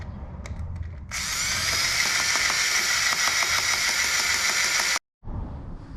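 A drill bores into a Shovelhead motorcycle kicker case, giving a steady, loud whining grind that runs for about four seconds before stopping abruptly, then a brief resumption.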